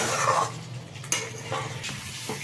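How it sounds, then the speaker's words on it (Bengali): Spices and fried potato stir-fried together in a pan, a short burst of soft sizzling with a few scraping spatula strokes and light clinks, close by and with no talk. "আমার মশলা ও আলু দুটোই ভালোভাবে কষিয়ে নেওয়া হবে একসঙ্গে"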